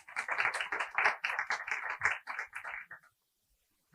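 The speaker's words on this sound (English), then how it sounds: "So a big round of applause for all of them." A small audience claps for panelists at a private sector forum of a world summit on social development, with quick, close, fairly quiet clapping lasting about three seconds before stopping abruptly.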